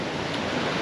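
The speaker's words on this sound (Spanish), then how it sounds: "Oye, la fuerza del mar, tremenda" Sea waves crash on the rocks of the coast at San Bartolo, Peru, a brief, loud, dense roar of surf close by.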